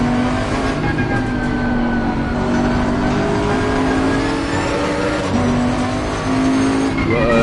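A loud Audi R8 race car engine in Assetto Corsa Competizione runs close and sustained at high revs, with steady gear-driven whine and brief pitch shifts, plus another car audible nearby.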